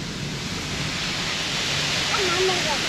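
Kynrem Falls, a tall waterfall in Meghalaya, makes a loud, steady roar of falling water that stays constant and fills the whole stretch.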